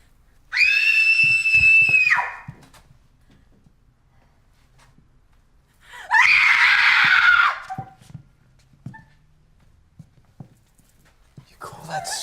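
A woman's high shrieking screams ring out in two separate bursts, each about two seconds long, with quiet stretches, scattered knocks and faint movement between them in a horror film scene.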